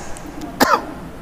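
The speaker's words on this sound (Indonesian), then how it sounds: "Ada yang sedikit batuk, kayak tiang sedikit batuk, jadi ditahan." A single short cough from someone in a religious lecture audience, a brief throaty burst with slight throat clearing, moderately close over quiet room noise.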